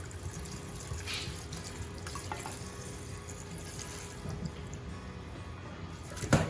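Red wine pours into a pan for a beurre rouge sauce in a quiet, steady liquid stream, ending with a faint clink.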